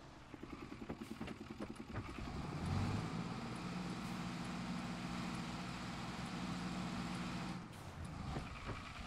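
Truck driving in the video game Farming Simulator 22: a steady, loud engine drone with low rumble holds through most of the clip, cutting off briefly near the end before resuming.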